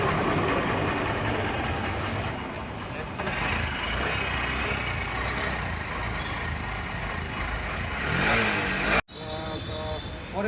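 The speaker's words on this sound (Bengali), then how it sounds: "ইঞ্জিনের সাউন্ডটা শুনুন, মেনটেনেন্স করা গাড়ি" An SP 125 motorcycle engine runs at a steady idle nearby with a fast, buzzing putter. People talk over it, and near the end a sharp cut breaks the sound before the idle returns.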